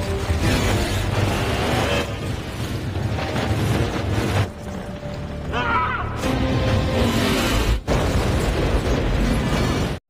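Explosion in a Chinese action film about a mythological predator, a loud sustained blast and rumbling debris with bursts and pops, cut short by a brief break before the roar resumes.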